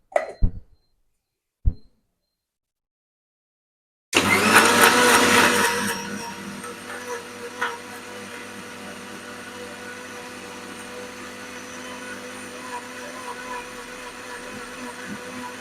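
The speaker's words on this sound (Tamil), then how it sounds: "ஸோ நம்ம இப்போ இதை நல்லா அரைச்சிக்கலாம்" A mixer grinder whirs loud and close as it grinds a chicken marinade, starting abruptly after a few brief knocks and settling into a steady, slightly quieter grinding drone that runs on alone.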